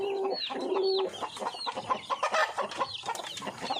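Chicks on a farm peep in thin, high, repeated chirps, with a sustained call at the start and then busy overlapping peeping at close range.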